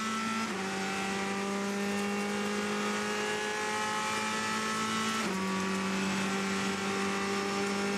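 A Ferrari race car at Le Mans brakes hard and drops down through the gears, its loud, sustained engine note stepping in pitch with each downshift.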